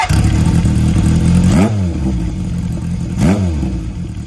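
A Honda CB750 Four K3 motorcycle with an M-Tec Chukyo exhaust idles loudly close by, then is blipped twice in sharp revs that rise and fall before it settles back to a rumbling idle.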